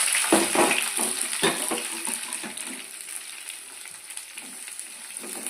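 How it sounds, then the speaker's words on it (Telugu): Onions and green chillies frying in hot oil in a kadai, a loud continuous sizzle that gradually settles, with a few stirring scrapes and taps near the start. "కళాయి పెట్టి రెండు పావులు ఆయిల్ వేసుకొని ఉల్లిగడ్డలు పచ్చిమిర్చి వేసుకోవాలి"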